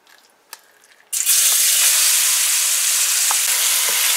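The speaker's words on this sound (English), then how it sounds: "our oil is hot and mom is going to start punjing the masala" Masala hits hot oil for a Punjabi-style duck curry, bursting into a loud, steady sizzle after a second of quiet with a faint tap, then frying on evenly and close by.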